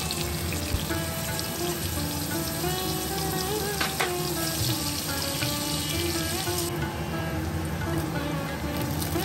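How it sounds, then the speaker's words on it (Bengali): Half-boiled cauliflower florets fry in hot oil with a steady, hissing sizzle that blends with watery, splashy sounds, heard close and continuously. "আগে থেকে অর্ধেক সেদ্ধ করা ফুলকপিগুলো ভেজে নেব।"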